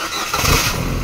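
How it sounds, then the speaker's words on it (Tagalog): A 2011 Ford Fiesta with manual transmission, previously failing to crank, starts up: a steady, fairly loud engine rumble that swells briefly mid-clip as it catches and settles, with no talking. "Okay, engine start, engine start."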